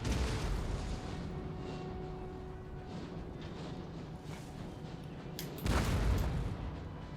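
Cannon fire in Napoleon: Total War, heard as a faint, muffled battlefield rumble with one heavier boom toward the end, no voices over it.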